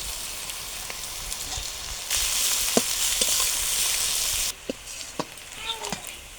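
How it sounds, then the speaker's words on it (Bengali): Chopped onion and crushed garlic fry in oil for a mutton curry. A sizzle swells loud for a couple of seconds and then quietens, with occasional clinks of stirring. "পেঁয়াজ কুচি রসুন কুচি দুটোই এই যে ভেজে নিয়েছি"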